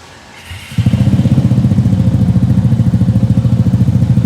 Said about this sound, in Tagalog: pakinggan natin guys kung paano tumunog ang Vespa 300cc Vespa with single cylinder